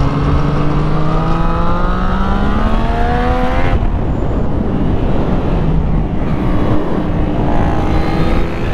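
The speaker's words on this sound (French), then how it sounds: "Je sais pas si vous entendez le paf à l'échappement les gars" A turbocharged Yamaha Niken three-wheeled motorcycle roars loudly and close, its engine pitch climbing and then dropping as it shifts, with exhaust pops crackling through the steady drone.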